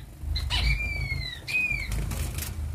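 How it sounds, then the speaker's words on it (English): Grass finches flap their wings in an aviary in quick, close flurries, with thin rising chirps over a low steady background hum. "See the grass finches?"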